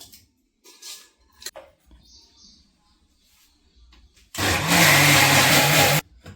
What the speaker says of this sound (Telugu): మిక్సీ జార్లో వేసి మెత్తగా పట్టాలి